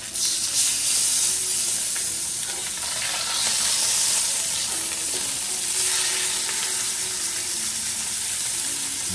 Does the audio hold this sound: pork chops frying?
yes